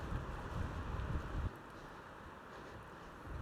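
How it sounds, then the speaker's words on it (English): Strong wind gusts through misty, wet woodland, a loud continuous roar with heavy low rumble that drops noticeably partway through, then keeps blowing steadily with no voices. "That wind has really picked up as well."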